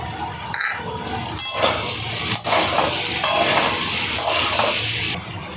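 Tomatoes tip into a pan of frying pumpkin and potato for kumror chakka, setting off a loud, steady sizzle with stirring and a few pan scrapes, close and continuous with no talking.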